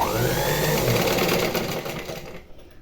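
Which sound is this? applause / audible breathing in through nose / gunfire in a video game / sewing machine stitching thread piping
sewing machine stitching thread piping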